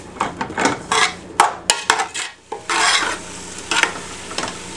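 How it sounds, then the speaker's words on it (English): Sliced mushrooms and onions sizzle in a pan for a green bean casserole, with repeated scraping stirs of a utensil against the metal in an uneven rhythm, close and fairly loud. "we'll let this cook down until the mushrooms are cooked and our onions have become translucent"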